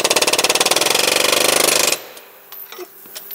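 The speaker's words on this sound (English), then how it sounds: "Air hammering within a few millimeters of the crank" Air hammer working within millimeters of a Camry engine crankshaft, a loud rapid string of sharp metallic impacts for about two seconds, then stopping and leaving quieter clinks and faint shop noise.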